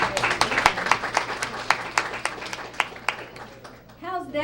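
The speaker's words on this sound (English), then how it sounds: "Let's give her a great round of applause." Applause at a student-of-the-month gathering, a small audience clapping in sparse, distinct claps close by, thinning out before a voice begins speaking at the end.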